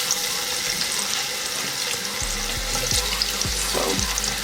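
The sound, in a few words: peppers sautéing in a pan for Rasta Pasta sauce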